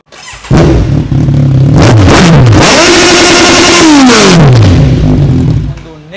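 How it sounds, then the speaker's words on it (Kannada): Motorcycle fitted with a GP Performance street-legal exhaust starts, then revs hard several times, the loud engine note climbing and falling back to a throaty idle, close to the bike. "ಬರೀ ಫ್ರೆಂಡ್ಸ್ ಈ ಗಾಡಿ ನಿಮಗೆ ಸ್ಟಾರ್ಟ್ ಮಾಡಿ ನೋಡ್ತೀನಿ ಹೆಂಗಿದೆ ಅಂದ್ಬಿಟ್ಟು"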